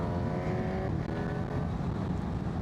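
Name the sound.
Honda CB1000GT motorcycle accelerating in third gear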